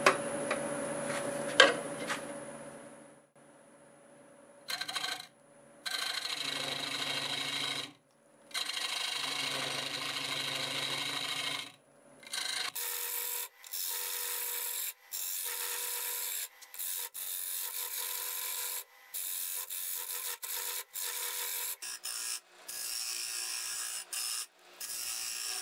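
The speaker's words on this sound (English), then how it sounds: "I'm going to use my hollowing tool to get this started." A hollowing tool cutting the inside of a spalted Norway maple bowl on a wood lathe, close scraping and rasping in repeated bursts separated by short pauses, each cut a few seconds long, with no speech.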